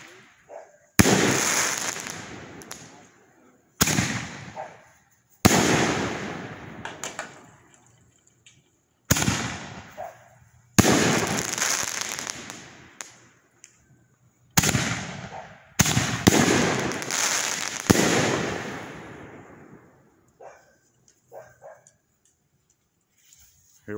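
A large fireworks cake fires about nine loud booming shots at a Mother's Day display, each burst decaying into crackle before the next, while a dog barks intermittently between blasts.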